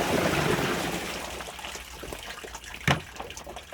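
Liquid comfrey fertiliser pours and splashes steadily at first, then tapers into scattered drips and a brief clatter, close by with no talking.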